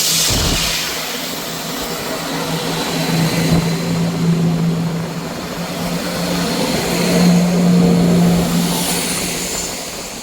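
A Scotrail passenger train pulls into Montrose station with a broad, steady rumble and low engine hum that swells and eases as it approaches, heard from the platform with no voices.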